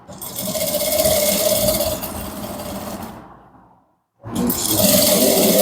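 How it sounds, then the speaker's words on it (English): A sewing machine top-stitches the shoulder seam of a Danshiki with a steady mechanical whir that slows and stops for a brief silence, then starts again at full speed. "This is how you top stitch the shoulder of a Danshiki."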